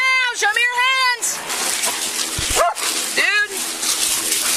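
A police K9 dog barks and whimpers loudly during a search for stolen-vehicle suspects, with sharp barks and whining yips close by, broken by short gaps.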